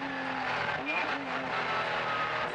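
A Speeder K8 race car runs at Le Mans in 1994. Its engine gives a brief rushing whine with shifting tones, and a commentator talks over it throughout.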